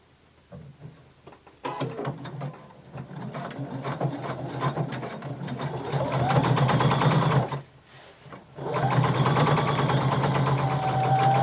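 A sewing machine topstitches along a denim seam for a McCall 6361 garment, its close, steady motor whir rising after a slow start, cutting out briefly, then resuming at a constant fast pace.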